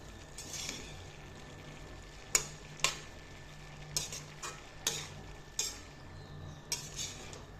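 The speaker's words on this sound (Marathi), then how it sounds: "मिक्स करून घेऊया" Cabbage being stirred in a pan with ground peanuts mixed in, sharp scraping clinks of a spoon against the pan coming every half second or so over a faint low sizzle, no talk.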